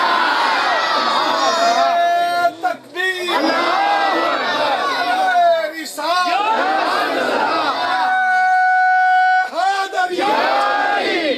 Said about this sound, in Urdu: زور سے بولو, جنہیں سمجھ نہیں بھی آئی وہ بھی زور سے کہو سبحان اللہ.